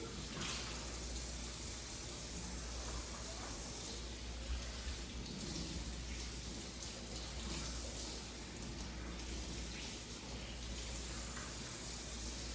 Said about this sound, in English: I like to rinse them off.